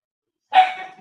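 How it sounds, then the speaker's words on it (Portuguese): A pet dog gives a single sharp, close bark that starts suddenly out of silence and fades quickly. "do nada começou a latir"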